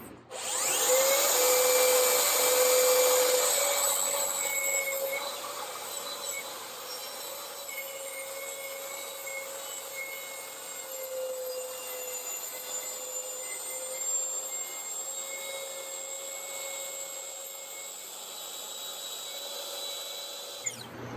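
A Makita track saw cuts wood with dust extraction attached, a loud motor whine that peaks early and then settles into a steady high-pitched drone and vacuum hiss, with no talking.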